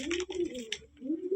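Punjabi breed pigeons, including a mature female, coo in soft rolling phrases close by, with a short pause midway before cooing resumes.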